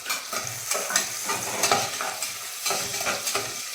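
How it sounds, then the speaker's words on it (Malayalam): Sliced onion and chopped green chili sizzle in hot coconut oil, with repeated stirring scrapes in an irregular rhythm over a constant frying hiss, close and fairly loud, no voices. "എണ്ണ ചൂടായതിനു ശേഷം സവോള ഇട്ട് കൊടുക്കുക അതിനുശേഷം അരിഞ്ഞ പച്ചമുളക് ഇട്ട് കൊടുക്കുക"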